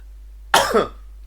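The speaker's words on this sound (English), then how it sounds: "The coughing is really kicking in now." One short, harsh cough, close and loud, followed by silence.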